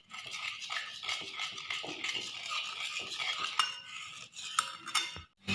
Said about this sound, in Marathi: या पद्धतीनं आपण हे मिश्रण फेटायचं आहे